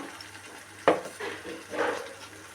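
Masala paste stirred into drumstick (munakkaya) curry in a pan where the oil has risen to the top: one sharp scrape of the spoon, then a few softer swishing stirs over a faint sizzle, close by with no talking.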